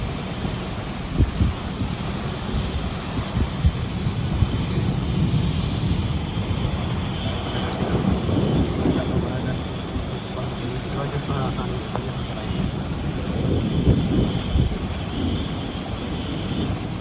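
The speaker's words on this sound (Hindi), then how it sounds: "बारिश कितनी तेज़ है।" Steady, rapid back-and-forth rasping of sandpaper rubbed by hand over a carbon hydrofoil being built, close and continuous, stopping abruptly at the end.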